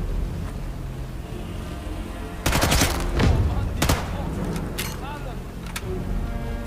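Gunfire in the video game Sniper Elite 5: a quiet ambient stretch broken by a loud burst of sharp shots, followed by scattered further cracks and lighter impacts.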